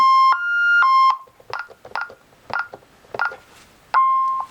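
Close, loud electronic tones from a Honeywell alarm keypad being disarmed: long steady beeps at the start and end, with a rhythmic series of short key-press bleeps in between.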